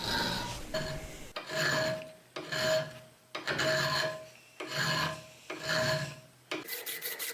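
Rasping file strokes on a bowie knife's coffin-shaped handle, five steady back-and-forth passes, each about a second long with short pauses between, close and clear with no talk.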